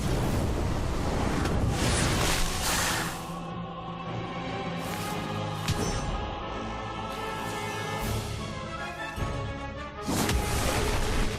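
An Incendio fire spell in a wizarding video game erupts in a loud roaring burst of flame and crackling blasts, dying into a rumbling swell before further fiery bursts near the end.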